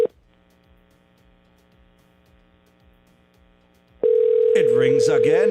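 A telephone ring tone sounds on a call after a long quiet stretch, a steady loud electronic tone that starts abruptly near the end.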